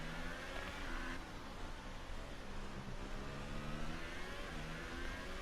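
Racing cars in a racing video game revving at the start of a race, a continuous mid-pitched engine drone with rising and falling whine, steady and moderately loud throughout.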